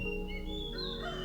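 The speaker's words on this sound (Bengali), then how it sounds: "মোরগের ডাক" A rooster crows in a hill village in the morning, one drawn-out, rising and falling call, fairly near and clear over a low steady background.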